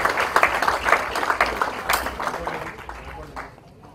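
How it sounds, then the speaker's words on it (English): An audience applauds at an institute inauguration, scattered clapping under a speaker's amplified voice, fading gradually toward the end. "A big round of applause to Spice for this new initiative."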